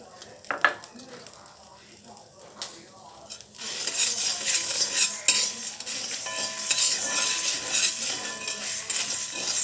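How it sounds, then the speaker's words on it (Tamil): Dried red chillies roasting in a pan for curry-leaf idli podi, heard as clinking stirring and scraping at first, then a denser sizzling hiss rising and holding on, with brief speech underneath. "நல்லா காஞ்ச மிளகா சீக்கிரம் வறுபட்டுரும்"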